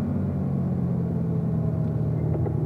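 A race car engine at the Spring Mountain track drones steadily, a low continuous roar heard from inside the car, with no sharp rev change marking the downshift to fourth gear.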